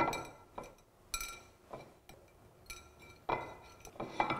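Hardened sugar syrup cooked to hard-ball stage for peanut chikki, tapped in its pan to give a series of sharp, bright clinks at irregular intervals, close and clear against a quiet background.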